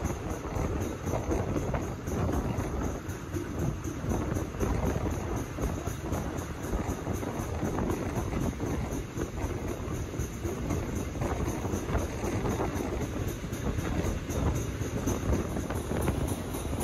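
A double-track train rolls out of a railway tunnel mouth, giving a steady, continuous roar and rumble mixed with wind buffeting, loud and unbroken throughout, with no talk.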